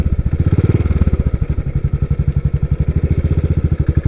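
A Royal Enfield 535 Continental GT motorcycle engine thumps loud and close with a steady, rapid rhythm, revving slightly then settling into an even pulse; no talking.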